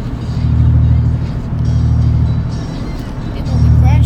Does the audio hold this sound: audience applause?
no